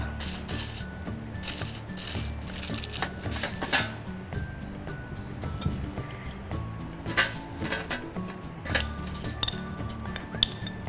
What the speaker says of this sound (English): Put the potatoes evenly, spread it out on the baking tray.